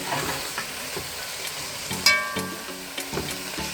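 Dumplings frying in hot oil outdoors and being stirred, giving a steady loud sizzle with periodic scraping and clanking of the spoon against the pot, close by and without talk.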